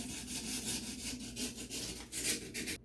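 Fine folded sandpaper rubbed back and forth in a bathtub faucet's O-ring track, giving a quiet, rhythmic scratchy rasp with about a dozen short strokes, close up with no talk.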